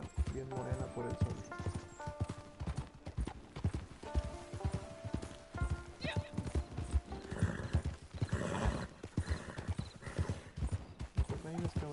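Horse hooves clip-clop in a fast galloping rhythm in the video game Red Dead Redemption Online, with occasional whinnies, close and steady, while someone talks over it.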